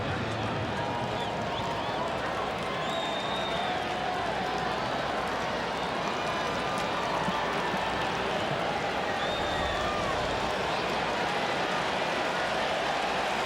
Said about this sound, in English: Crowd buzzing. Sellout here in Cincinnati.